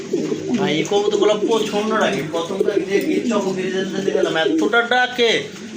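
A red checker pigeon cooing, repeated throaty coos close by, mixed with someone talking over them throughout.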